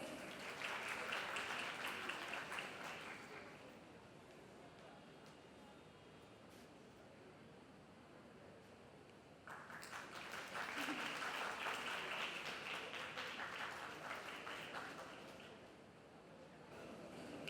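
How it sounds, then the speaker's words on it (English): Audience applause at a CA students' conference in Ernakulam, welcoming a speaker: a broad crowd clapping loudly for about three seconds, easing to a lower murmur, then swelling again into a second strong round before tapering off. "A huge round of applause and a very warm welcome to CA Durgesh Pandey,"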